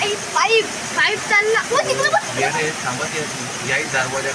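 Floodwater rushes loud and steady after a cloudburst at Arjunli village in Shahapur, where vehicles were swept away. Several people talk over the noise throughout.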